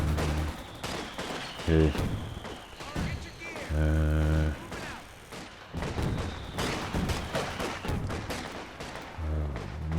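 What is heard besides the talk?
artillery barrage in video game Company of Heroes 2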